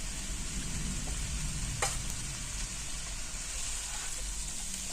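Jackfruit curry sizzles steadily in a pan, a continuous close frying hiss with a brief scrape of stirring partway through.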